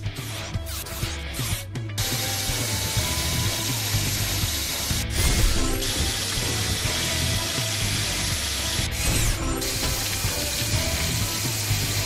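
A drill in a Paw Patrol video game runs continuously for about twelve seconds, a dense mechanical ratcheting whir with gear-like clatter, steady and fairly loud with a few brief surges, no talking over it.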